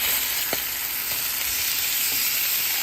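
Steady sizzling of a second batch of food with onions frying in a pan, a continuous close hiss with a few faint clinks and no talk.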